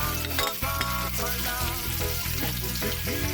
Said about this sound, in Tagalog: muna po yung bawang tapos hanggang mag-brown po siya pagkatapos sibuyas lahat na para mag-masarap